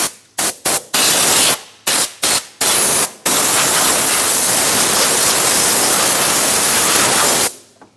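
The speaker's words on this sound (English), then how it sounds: "Just going to clean up some of the dirt using some compressed air." Compressed air blasting dirt off an engine part on a 2009-2013 BMW 328i xDrive 3.0L inline-six, first in several short loud hissing bursts, then a long steady roaring blast that cuts off abruptly.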